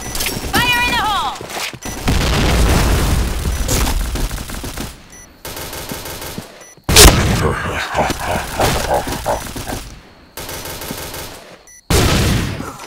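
Explosions and gunfire in the shooter game Point Blank during a bomb-planting round, sharp loud bangs and bursts of rapid fire cutting in and out, with shouted in-game voice callouts and effects throughout.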